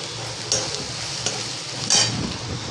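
Green chillies frying in a pan with a spoonful of turmeric added over low heat for a dried-fish chutney, a steady close sizzle with a few brief stirring scrapes and no talk.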